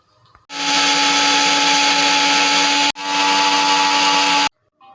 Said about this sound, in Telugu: ఇప్పుడైతే మనం ముందుగా వేపు పెట్టుకున్న ఈ ఎండుమిర్చిని ఇందులో వేసేసి మిక్సీ పట్టేసుకుందాం